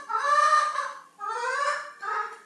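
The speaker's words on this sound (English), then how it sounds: "our chickens seem to agree with us. There's one or two at the front door right now." Chickens near a front door give loud, close, harmonic calls in three bursts, a long one, a second, then a short final one, with nobody speaking.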